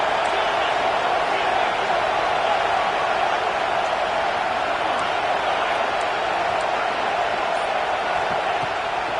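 A packed stadium crowd roars for a big third down at a Nebraska vs Penn State college football game, a loud, steady wall of cheering that holds unbroken throughout.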